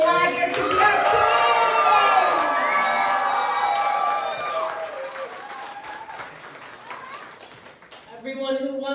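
A school audience at an Earth Day cabaret cheers and claps loudly for a child crowned king, the crowd noise dense and sustained before fading, with voices and shouting mixed in and a brief spoken phrase at the end.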